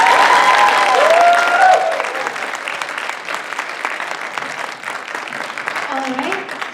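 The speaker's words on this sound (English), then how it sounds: "can we give out one heartfelt applause?" A crowd at a university culture night performance applauds steadily for several seconds, the clapping dense and fairly loud, with a few cheers and voices mixed in.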